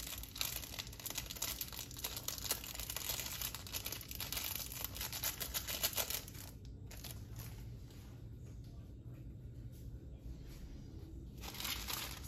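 A glitter packet is torn open close by, a dense stretch of crinkling and ripping plastic for several seconds that eases into softer rustling, then brief crinkling again near the end; no one speaks.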